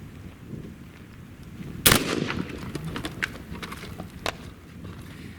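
A ZEUS .72 caliber big-bore air rifle fires a single sharp, loud shot, followed by a short ringing echo and scattered small knocks and clicks in the quieter outdoor space.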